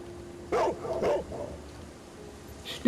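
A small dog in the Sherlock Holmes: Crimes and Punishments game gives two sharp, close barks, followed by a few softer yips and whimpers.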